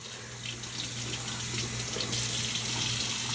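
Water running steadily from a tap while someone rinses off after a shave, a constant close hiss and splash with slight fluctuations, and no talking.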